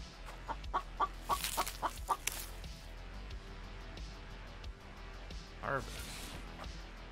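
A chicken in the video game The Infected lets out short, sharp clucks in a quick burst of about half a dozen near the start, then one more squawk later, faint over quiet game ambience.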